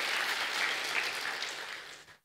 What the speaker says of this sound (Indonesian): berikan tepuk tangan sekali lagi Bapak-Bapak